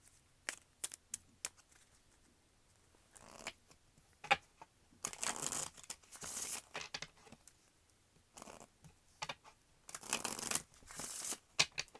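A deck of romance oracle cards is shuffled up close, with repeated bursts of crisp riffling and slapping separated by brief quiet pauses.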